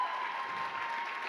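A crowd claps steadily at a cosplay performance contest, a short even burst of applause at moderate level with no voices on top.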